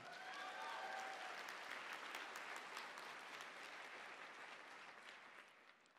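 TEDx talk audience clapping, a sustained burst of many hands at a fairly even level that slowly tapers off toward the end, with no voices over it.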